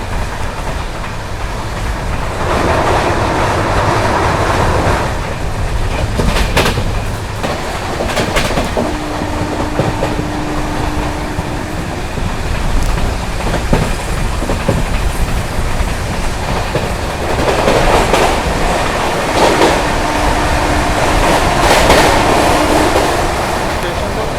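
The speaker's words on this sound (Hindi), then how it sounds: "Bandra terminus Ghazipur city superfast express आ रही है" Bandra Terminus–Ghazipur City Superfast Express crossing on the next track: continuous close rumble and rhythmic clickety-clack of wheels over rail joints, with brief tonal squeals and some voices in the background.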